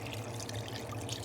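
Milk poured into a pot on a gas stove, a steady liquid trickling and splashing sound, close and moderately loud, continuing throughout without talk.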